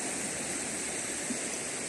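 River water flows steadily in a continuous, even rushing hiss, close and moderately loud, with no voices over it.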